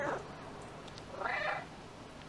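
A cat meows twice in the video game Stray, a short soft call and then a longer, clearer meow, alone over quiet background.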